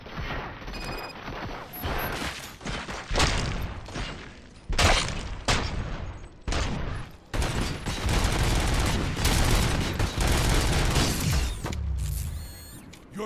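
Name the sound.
gunfire in the RoboCop: Rogue City video game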